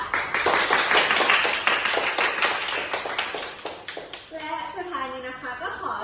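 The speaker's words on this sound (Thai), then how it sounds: "ปรบมือเป็นกำลังใจให้กับนักเรียนที่ได้รับรางวัลทุกคนด้วยค่ะ" Dense crowd clapping for award-winning students at a school ceremony, loud and continuous for about four seconds before it thins and a single voice begins speaking.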